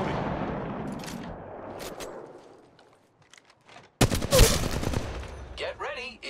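Gunfire in Apex Legends Mobile: a loud, sudden volley of rapid shots bursts out after a quieter stretch of game noise and voices, ringing close and dense for about two seconds.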